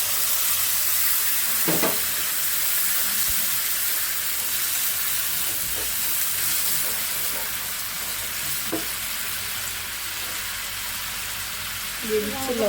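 Ginger-garlic paste, cumin and coriander spices fry in a pan with a loud, continuous sizzle and hiss, broken by occasional stirring clinks and scrapes, with a voice faintly heard at moments.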